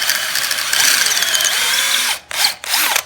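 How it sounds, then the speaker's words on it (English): A power drill with the next size up bit bores out a wooden dowel peg during furniture repair, a loud continuous whir that drops out briefly near the end and then spins up again in two short bursts. "We're going to drill out just a little bit more wood with the next size up"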